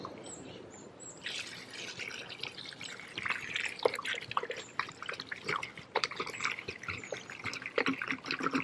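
Water pours and trickles into a container with bleach while basement cleaning, with uneven splashing and dripping that grows busier toward the end, fairly close and moderately quiet.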